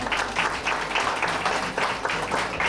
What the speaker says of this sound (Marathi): प्रणाली राहुल पाटील, जोरदार टाळ्या वाजवूयात.